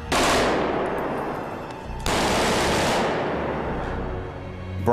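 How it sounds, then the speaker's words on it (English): Heavy automatic gunfire in a city street in Batman: Arkham City, two long loud bursts that ring off nearby walls with sharp, quick echoes and fade in a reverberant tail. "If you imagine a gun firing in a street, the nearest wall is probably only, I don't know, 50 yards away or something."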